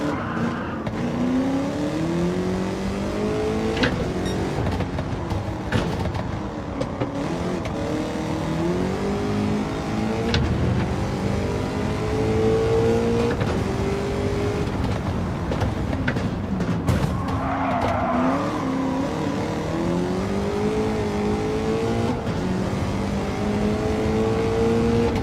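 A rear-wheel drive race car in Gran Turismo 7 runs continuously at moderate volume, its engine pitch climbing and dropping through repeated gear changes, with occasional tire scrubbing.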